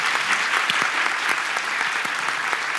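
An audience gives steady, brisk applause for a young Quran reciter, dense clapping with a few sharper individual claps standing out, continuous and fairly close.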